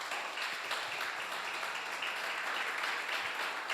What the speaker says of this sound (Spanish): Dele un aplauso al nombre del Señor.